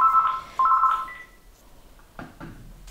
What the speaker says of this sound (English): Oh, that's the answering machine you can hear in the background.